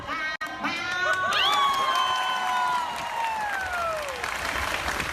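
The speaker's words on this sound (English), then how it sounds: "make sure you have a big finish so they know to clap and cheer" A convention audience at a Spooky Empire performance claps and cheers in a sustained wash of applause with whoops and shouts, loud and close, while a voice rises above the crowd.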